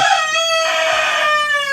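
A rooster crows loud and close at a rural Filipino home, one long sustained cock-a-doodle-doo with a bright rising-then-held tone filling the whole moment, no talk over it.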